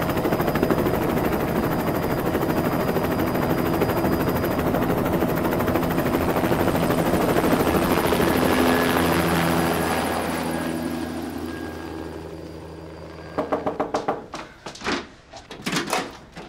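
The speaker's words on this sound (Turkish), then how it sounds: "Tamam, helikopter geliyor." A helicopter approaches with a loud, dense rotor roar that fills the scene, then fades toward the end, where sharp door-like bangs and knocks cut in.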